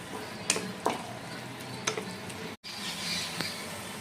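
Garlic sizzles in a pan as it cooks for a Bihari-style chicken masala. A steady frying hiss runs underneath, broken by a few sharp scrapes and taps as it is stirred.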